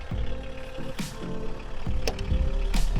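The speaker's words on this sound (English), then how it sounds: "It's obviously a four-door diesel, as you can hear." A 1979 Volkswagen Mk1 four-door diesel idles close by with a steady low rumble, a few sharper clicks and knocks breaking over it, and no voices.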